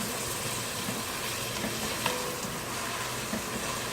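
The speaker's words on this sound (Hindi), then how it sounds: "आप 2 मिनट तक बस चिकन को फ्राई कर लीजिए।" Chicken frying in a pan for a Chinese-style one-pot spaghetti, a dense, even sizzle heard up close with faint occasional stirring clicks and no voices.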